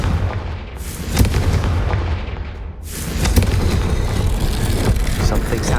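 Confringo blasting spell from the video game Hogwarts Legacy, a loud roaring burst with rumbling, crackling debris that swells, dips and flares again, dense and close throughout.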